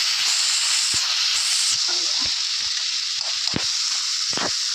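Chopped tomatoes with ginger and garlic sizzle and hiss steadily in a hot pan, loud and close, with occasional stirring scrapes and taps.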